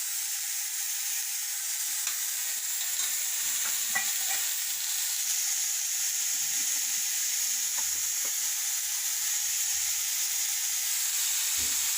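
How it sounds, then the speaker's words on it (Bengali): Cauliflower and potato frying in oil with ginger paste, for a Bengali koi fish curry, a constant hissing sizzle with soft scattered stirring knocks, no voices. "ফুলকপিটা আলুটা ভেজে নিই"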